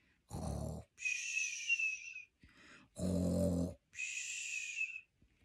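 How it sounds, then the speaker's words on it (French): A large sleeping creature snores in slow, deep cycles, rasping low inhales alternating with breathy whistling exhales, repeated twice, close and fairly loud with no talk. "Il ronfle."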